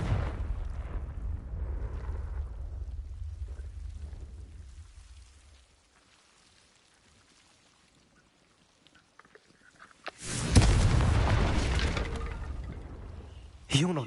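A Confringo fire spell goes off in a Harry Potter video game. A heavy, rumbling blast fades into near silence, then a sudden loud explosive burst crashes in and decays, with a short hit right at the end.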